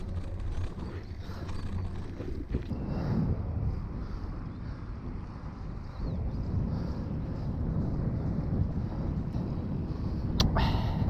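Wind rushes outdoors near a dam and buffets the microphone in a steady low roar. Occasional louder gusts and scrapes rise above it, with no voices.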